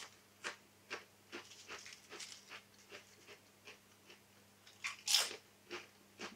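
Crisp bites and chewing on Taylors potato crisps, close and quiet, a series of sharp crunches at an irregular rhythm with one louder crunch near the end.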